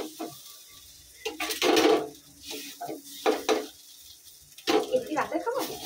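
Semolina being dry-roasted and stirred in a pan, intermittent scraping and rustling strokes of a spoon against the pan, close and uneven, with bursts of movement between quieter gaps and no talk.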